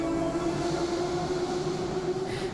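A Moscow metro train rolls along, a loud, continuous low rumble with a steady droning tone and no voices.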